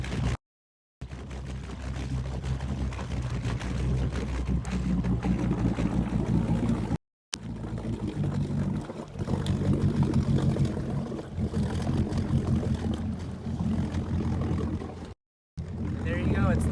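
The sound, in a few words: boat started up and taken off trailer into water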